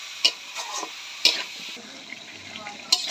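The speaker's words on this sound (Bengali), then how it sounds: "এই দেখেন এইভাবে কষাই নিচ্ছি" Pigeon meat and bottle gourd being stirred and sautéed in a pan, giving a steady frying sizzle broken by a few sharp utensil scrapes and clicks against the pot.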